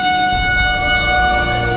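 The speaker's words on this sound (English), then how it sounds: "Right now there are sirens going on." Outdoor warning sirens sound during severe weather: a loud, steady, sustained tone with strong harmonics that holds for the whole stretch, with no speech over it.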